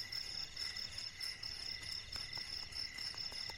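Crickets chirping at night at a camping spot, a steady high-pitched pulsing trill repeating continuously, faint but clear over a quiet background, no voices.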